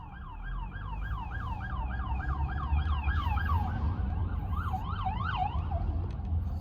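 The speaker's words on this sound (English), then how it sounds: "Oh, sirens." Wailing emergency vehicle sirens rise and fall repeatedly over low New York traffic rumble, loud and steady, with a second siren pattern joining toward the end.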